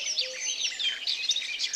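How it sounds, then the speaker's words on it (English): Several small birds chirp and sing continuously, a busy overlapping chorus of bright high tweets and trills heard fairly close in a quiet morning setting, with no talking. "The birds were chirping and singing sweet songs"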